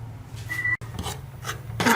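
A spoon stirs flour as it roasts dry in a pan for nihari, making a close, continuous scraping rasp with short irregular strokes.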